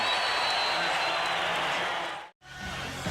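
Sellout crowd of 14,471 at Veterans Memorial Coliseum on its feet during a late timeout in a 1989 Knicks–Suns basketball game, a loud, continuous roar and applause that cuts out briefly, then resumes.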